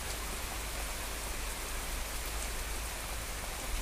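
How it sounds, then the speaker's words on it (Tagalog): Heavy, steady rain pouring down hard enough to flood a garden, a dense continuous hiss of drops hitting surfaces with no pauses. "Kasi sa sobrang lakas ng ulan"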